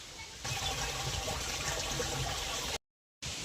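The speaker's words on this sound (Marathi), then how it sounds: "आता आधी पाणी भरून घेते" Water gushes steadily into a container at close range, cuts out briefly, then resumes.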